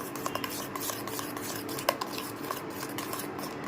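A spoon stirs a homemade soap mixture with fuller's earth in a bowl. Quick, rhythmic scraping and light metallic clicks come up close and continue steadily, with no talking.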